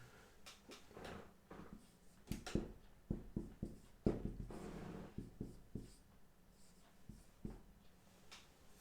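Handwriting on paper during an English writing lesson comes through as quick, close scratches and taps of a pen, in short irregular bursts with brief pauses between strokes and no voices.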